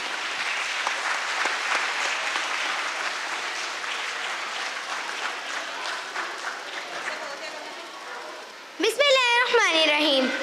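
An audience at a school stage event claps loudly and steadily, a dense wash of many hands that thins toward the end before a loud voice cuts in over the sound.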